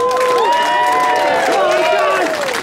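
A live crowd at Moon Ballroom during Scranton Eclipse Fest cheers loudly, with high whoops and shouts sliding up and down over a steady wash of noise, close and continuous throughout.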